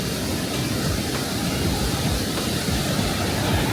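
Himalayan river flowing between two mountains, a dense, steady rushing roar of water, even and continuous with no breaks, moderately loud.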